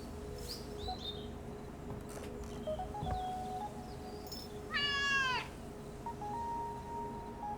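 A cat in the video game Dordogne meows a few times with a rising, wavering cry over a steady electronic background hum, with faint chirps scattered around it.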